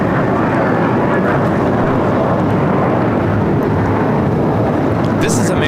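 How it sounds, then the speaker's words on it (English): An American Airlines Airbus A321 takes off at LAX, a loud, broad, continuous jet roar filling the whole stretch without letting up. "American Airlines 764 taking off to Puerto Vallarta on the A321"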